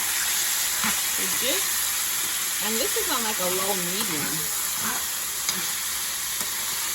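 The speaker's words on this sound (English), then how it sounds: "All that sizzle from the spices" Shrimp and spices sizzle steadily in a hot frying pan, a constant frying hiss while a person talks briefly over it.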